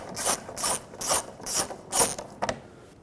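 A ratchet unscrews a 10mm screw on a 2003-2008 Toyota Corolla bumper, giving five even, close clicking pulls followed by a quick final double click, with no talking.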